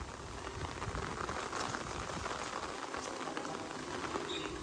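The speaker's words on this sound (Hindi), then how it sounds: "अचानक बारिश स्टार्ट हुई है और बादल भी अचानक ही उठे हैं आज तो।" Sudden rain falls in a Punjab village, a steady dense hiss of drops on surfaces holding at an even level throughout, with no voices.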